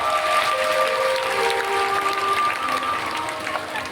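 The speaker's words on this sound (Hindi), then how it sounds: "एक बार जोरदार ताली बजाकर उनका" An audience at a Bhagavat Katha gathering applauds in a dense, steady clatter of clapping that fades slightly toward the end, with tonal sounds and voices running underneath.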